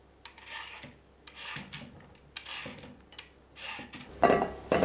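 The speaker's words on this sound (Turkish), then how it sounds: "Sebzelerin hepsini rendeliyorum." Carrots and beets are rubbed against a metal grater in repeated close, rasping strokes, each scrape separated by short pauses, with a sharper clink of the grater toward the end.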